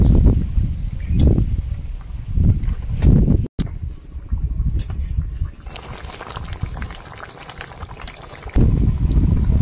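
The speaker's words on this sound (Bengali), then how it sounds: "এবার কিছুক্ষণ ফুটিয়ে নেবো, জিরে বাটা দিয়েছি" Village-style vegetarian egg curry with cumin paste boils in a pot, giving a continuous watery bubbling and gurgling with low rumbling swells that come and go, loud and close.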